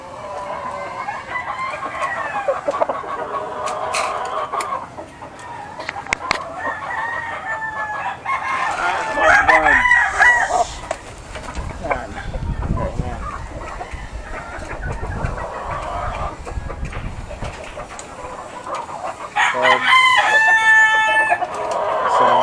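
Chickens and roosters in a small rooftop coop cluck and crow, with several loud, close crows standing out over ongoing clucking and scratching noises.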